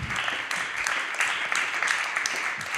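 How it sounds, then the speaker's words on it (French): An audience at a performing arts congress applauds, a mid-sized crowd clapping steadily with distinct individual claps standing out over the dense patter. The clapping holds at moderate loudness for a few seconds. "On peut applaudir"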